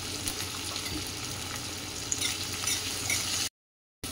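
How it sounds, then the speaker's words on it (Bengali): Chopped capsicum frying in a pan with turmeric and salt, a low hiss of sizzling with light stirring, faint and close, cut briefly by a moment of silence. "আর এটাকে হালকা নাড়াচাড়া করে নেবো"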